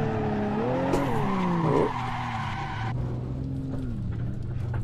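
A BMW 1M drifting, its tires squealing in long, wavering screeches over a sustained engine drone, close and loud before easing into a lower steady hum.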